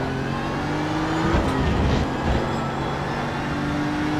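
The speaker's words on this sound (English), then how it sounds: "There's a faster class car approaching." A faster-class race car closes in on the Barcelona circuit during a multi-class amateur endurance race, its engine note swelling steadily under the constant drone of the driver's own car, peaking briefly before settling back.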